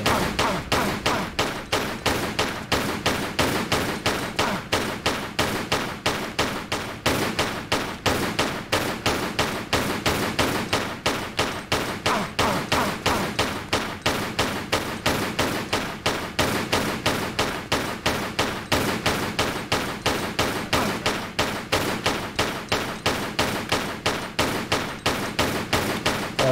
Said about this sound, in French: Pardon pour le bruit d'enfer, hein, de la fusillade.